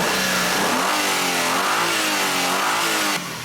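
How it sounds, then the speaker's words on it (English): Hyundai Sonata engine with a crankshaft sensor fault running steadily and loudly, with a mid-pitched revving drone that rises and falls slightly before dropping off near the end. "I don't know if you can even tell by the way the engine sounds right now."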